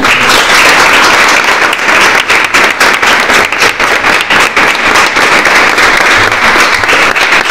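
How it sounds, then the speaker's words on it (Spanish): A New Year's gala audience bursts into loud, close, continuous applause, dense many-handed clapping mixed with crowd noise and sharp cracks that hold at full strength throughout. "Yo creo que esto se merece un aplauso,"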